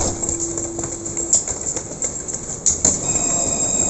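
A tram moves along a city street in Montpellier, France, with close rolling rumble, rail clatter and a few metallic squeals and clicks amid busy urban background noise.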